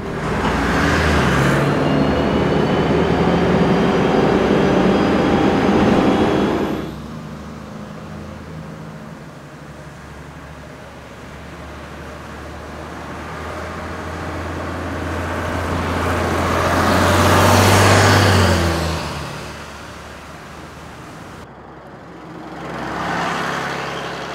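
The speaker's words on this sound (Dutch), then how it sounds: "We zitten nu in een zogenaamde CSA 1 uit het jaar 1973." Inside a 1973 CSA 1 historic Dutch bus on the move, a loud broadband roar of engine and road noise rises and falls in long swells as it accelerates and eases off, with no voices.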